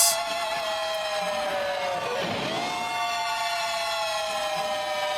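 An electric guitar in a live rock performance, a sustained wailing, siren-like tone that swoops down and climbs back up, loud and alone without talk.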